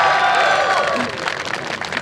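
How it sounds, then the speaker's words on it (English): Crowd at the Australian Rover Challenge applauding and cheering as a rover makes its first move on the pitch, a loud, dense wash of clapping and voices lasting throughout. "Big support from the crowd there as the rover makes its first move on the pitch for the space resources task."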